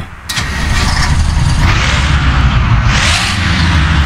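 A bus engine in a driving video game cranks and catches, then settles into a steady low rumble that fills the rest of the clip, loud and close.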